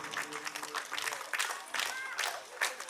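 An audience at a residence association cultural meeting claps in a warm, uneven patter of applause, with several voices calling out over the clapping.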